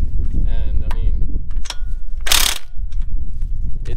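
Impact wrench with a 100 foot-pound torque stick tightening a lug nut on a replacement wheel stud of a Nissan 350Z, a loud rattling burst of hammering near the middle, surrounded by clanking mechanical noise.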